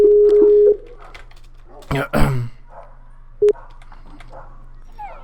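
A Skype call tone rings while a Minecraft survival game is being recorded: a steady electronic tone for under a second, then a throat clearing and a single short beep, all fairly clear over a quiet background.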